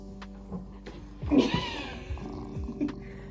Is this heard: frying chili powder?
no